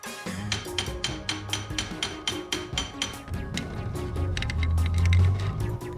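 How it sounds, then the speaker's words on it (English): A hammer taps a socket extender to loosen a short shifter part from a car transmission, a steady series of close metallic knocks with some scraping between strikes. "use a socket extender and a hammer to gently loosen the part from the"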